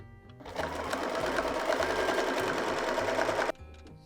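A sewing machine runs steadily for about three seconds, stitching a pointed loop-to-loop design, its rapid mechanical whir starting and stopping sharply with quieter handling before and after.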